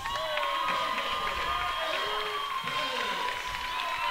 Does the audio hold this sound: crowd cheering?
yes